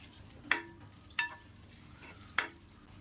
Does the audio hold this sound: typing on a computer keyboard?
no